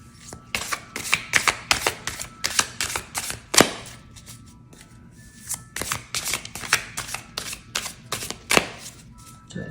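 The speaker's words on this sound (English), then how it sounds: "Do a good hard shuffle." Tarot cards are shuffled vigorously in rapid riffling bursts, crisp and close, with a short pause midway before the shuffling resumes.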